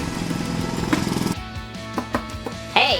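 A voice imitates the jackhammer arm of a LEGO Mixels figure, giving a rough, buzzy, rattling drone that then breaks into a few sharp vocal bursts and a rising squeal.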